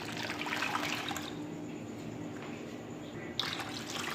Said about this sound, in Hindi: इसमें हमने पानी और ऐड कर लिया है